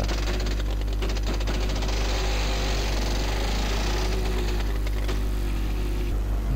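Steady tractor engine drone from Farming Simulator 2015, a continuous mid-pitched hum with low rumble that stays loud and even throughout, with no talking.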